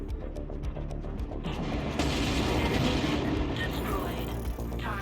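Tank strike explosions in MechWarrior Online, a continuous thick rumble of heavy booms and grinding mechanical clatter that swells midway and stays loud throughout.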